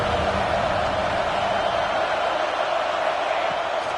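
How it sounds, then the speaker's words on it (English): A stadium crowd at a football game roars in a sustained, steady swell of noise that fills the whole span, with a faint voice mixed into the broad din. "This crowd rising up, sensing that its defense needs some help."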